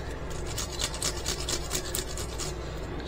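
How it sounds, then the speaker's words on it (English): A pickle being rubbed against a grater, giving a close, rhythmic rasping scrape with quick strokes repeated over a few seconds, with no voices. "You take your pickle, grate a little bit of pickle in there."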